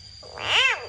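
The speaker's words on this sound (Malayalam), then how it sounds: "ഈ തവളന്റെ കരച്ചിൽ ഇങ്ങനെ കേക്കാം" A single frog call rises and falls in pitch, a short, clear, ringing croak heard up close against quiet night background.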